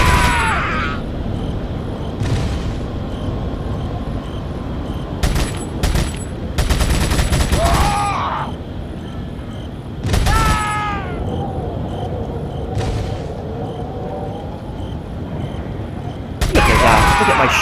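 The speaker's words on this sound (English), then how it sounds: "shooting." Gunfire and explosions in Resident Evil 4 on PS4, with several sharp bursts and booms scattered through, set against a continuous loud game background with some enemy voices.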